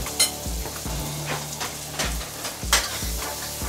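Flour being stirred into a sizzling sauce in a pan, a steady bubbling sizzle broken by regular scraping strokes and light clinks of a utensil against the pan, close and clear with no voices.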